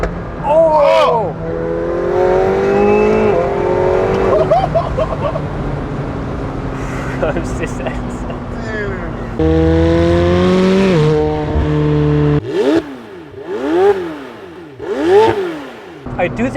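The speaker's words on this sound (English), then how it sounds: "I do think this car sounds good." McLaren 720S Spider engine revving and accelerating hard, loud and close, with rising and falling engine tones and gear changes, several pulls in a row.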